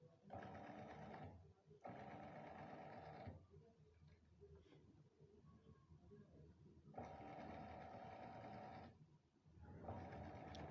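A sewing machine stitches a coat pocket beside a zip in rapid mechanical bursts of a few seconds each, separated by pauses in which a voice talks quietly.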